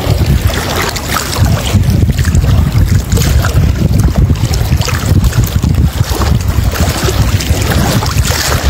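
Strong wind blows over a lagoon and river, a loud, constant roaring buffet with heavy gusting rumble across the microphone and wave chop beneath, steady throughout and with no talking.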